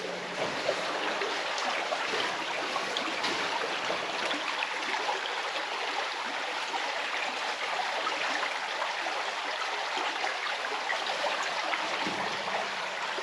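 A freshwater stream flows beside a North Country Trail campsite, an even rushing burble that is close and continuous, with no talking.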